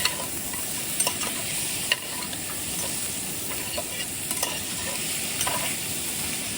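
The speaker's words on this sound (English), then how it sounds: "I hope you can hear the sound of the sizzle." Pork sizzles in a pan outdoors beside a river, a soft continuous frying hiss broken by light clicks and pops, with a steady wash of flowing water blended underneath.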